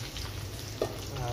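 Fish frying in oil in a village kitchen, a steady close hiss with a brief clink or stir partway through.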